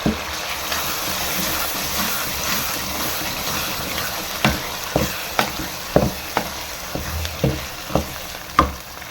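Mustard greens saag stirred into a hot spiced tadka for Punjabi sarson ka saag, with a steady sizzle punctuated by a run of sharp spoon clacks and stirring scrapes in the second half, close and moderately loud.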